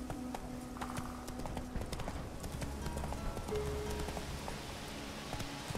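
Roach, the horse in The Witcher 3, trots with steady rhythmic clip-clop hoofbeats over a continuous game ambience with faint rain-like texture, the hooves close and moderately loud throughout.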